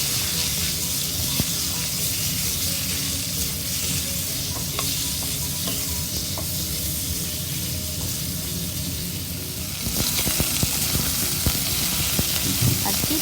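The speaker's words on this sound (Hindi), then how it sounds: "उसी ऑयल में तकरीबन 200 ग्राम के करीब मैंने चिकन डाला है" Roughly 200 grams of chicken frying in oil for a chicken and okra (bhindi) dish, with a steady, dense sizzle and occasional stirring scrapes that grow louder and busier toward the end.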